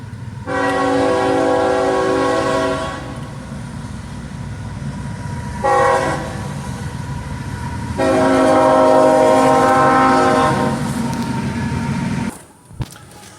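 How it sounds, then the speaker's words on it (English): A train rumbles past close by, loud and continuous, as its horn sounds in long drawn blasts that fade and return before the noise cuts off. "Pardon the train going past."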